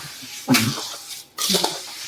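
Water being poured into a pan of sugar to soak it for syrup, for adadiya sweets in a home kitchen; two short splashing pours, near and fairly loud, with no talk.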